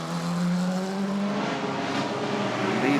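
The number 2 Porsche prototype races at the 2016 6 Hours of Nürburgring. Its engine drones loud and steady from on board, with the pitch sliding slowly and then rising as it accelerates, and no talk over it.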